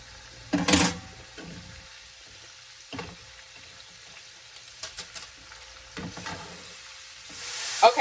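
Ground sausage and hamburger browning in a pan for chili Rotel dip, a quiet low sizzle broken by several stirring scrapes and soft clatters of the utensil, growing louder at the end.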